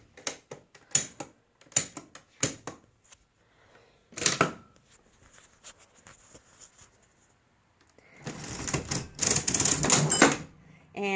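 A repaired National Cash Register 542 clatters through its mechanism in several sharp bursts of key and lever clicks, then a longer loud rattling run near the end as the drawer releases, with brief speech between.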